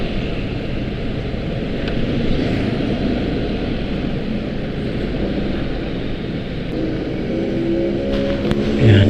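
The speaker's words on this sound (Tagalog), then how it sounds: "Dami kasing talagang sasakyan dito eh no." Road traffic passes around a rider on a Yamaha NMAX scooter, a steady wash of engine and wind noise with vehicles rumbling nearby and a slight swell toward the end.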